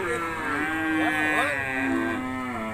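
A thin Limousin mother cow lets out a long, close, loud moo with rising and falling pitch, sounding alone.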